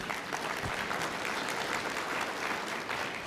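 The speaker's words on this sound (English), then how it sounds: "One more round of applause for the panel" Quieter applause from a conference audience for a panel at a general session, an even wash of many hands clapping at moderate distance, steady for the whole stretch with no speech over it.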